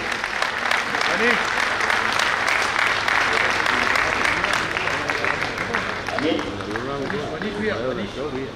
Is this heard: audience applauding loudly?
yes